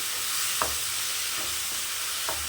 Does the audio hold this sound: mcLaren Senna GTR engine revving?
no